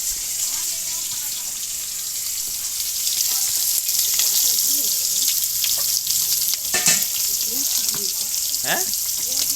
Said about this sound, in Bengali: হট করে কড়াতে মাংস দিয়ে ফেলেছে